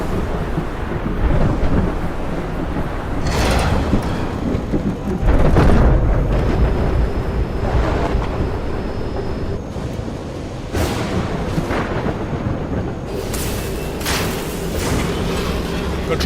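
Thunderstorm raging around an airliner whose left engine has failed, with heavy rolling thunder booms and a constant rain-like roar, loud and dense, with broad crashes recurring every few seconds.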